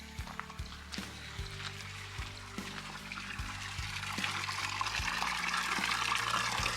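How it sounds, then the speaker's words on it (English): Spring water runs out of a tube fed from a concrete box, a steady splashing trickle with soft knocks and bumps nearby that grows fuller toward the end. "he's been getting water from this spring the whole entire time"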